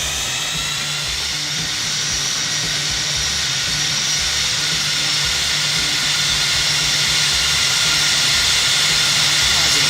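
Jets of a Felis Boeing 747-200 landing in X-Plane roar loud and steady, a broad hissing whine with low rumble beneath that builds slightly toward the end.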